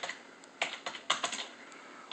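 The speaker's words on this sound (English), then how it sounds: "this is a test for using the external keyboard" Keys clack on an external keyboard hooked up to an Android tablet, a quick irregular run of close, crisp taps with short gaps between bursts.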